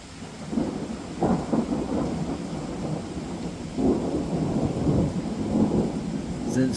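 Thunder rolls through a September storm over steady rain, with several low, swelling rumbles rising and fading against the constant hiss of the downpour.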